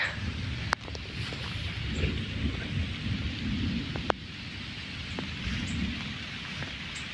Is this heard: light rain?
yes